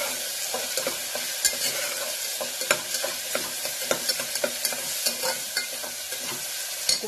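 Ghee sizzling in a hot pan with rice, coriander, ginger and garlic, a bright continuous frying hiss punctuated by regular clinks and scrapes of a spoon stirring, close and alone without voices.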